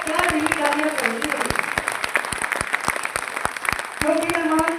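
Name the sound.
audience applause for a guest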